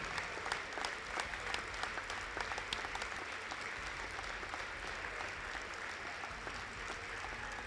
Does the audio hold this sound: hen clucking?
no